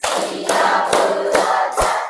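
A classroom group claps hands in unison, with five sharp, loud claps at an even beat under a busy wash of children's voices and chatter.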